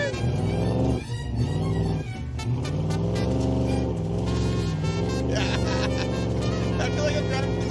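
A Raunchero car drives with its engine running in a steady, harmonic rumble and revs that rise and fall, the engine sound continuous throughout, with voices talking over it.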